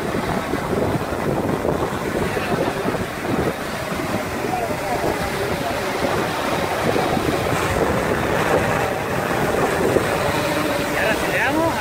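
Swellpro water drone skimming low over the sea, its motors accelerating in a loud, steady whir mixed with wind buffeting and wave wash for the whole stretch, with a few voices talking now and then.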